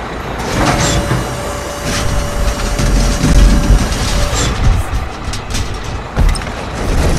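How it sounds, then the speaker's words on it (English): Heavy haul truck engine in a construction-vehicle video game, a loud steady low rumble with mechanical clatter and brief higher bursts, continuous throughout. "This is a haul truck."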